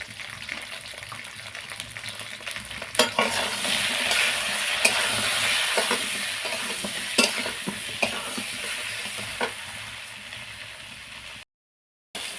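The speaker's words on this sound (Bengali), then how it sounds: "পটলগুলো কয়েক মিনিট ভেজে নেওয়ার পরে এগুলোকে এবারে তুলে নেব" Pointed gourd (potol) pieces fry in oil in a wok with salt and turmeric, a steady close sizzle broken by stirring clatters and scrapes, then a brief silence at the end.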